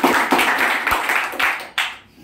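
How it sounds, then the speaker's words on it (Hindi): A crowd claps loudly in a class or seminar session, a burst of applause with sharp repeated hand claps that fades toward the end. "मतलब एक बार जोरदार ताली हो जाएगी।"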